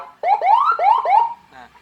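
A landun tone from a CJB 100A siren with Whelen sound gives four quick rising whoops in a row, loud and close, then trails off into a short, rougher burst.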